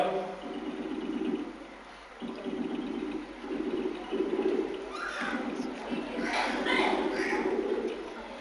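A voice imitates a pigeon cooing, giving low, throaty, continuous cooing phrases over about eight seconds, with a few brief breaks.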